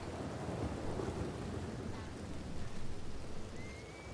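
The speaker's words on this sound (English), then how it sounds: "This is a bloody loud storm, lad. It's absolutely coming down." Heavy rain and a thunderstorm pour down steadily in the Red Dead Redemption 2 game world, a dense, continuous wash of rain noise with low rumbling underneath, moderately loud and with no talk over it.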